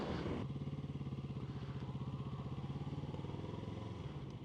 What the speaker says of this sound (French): C'est compliqué de passer les vitesses sur une boîte qui a 53 ans.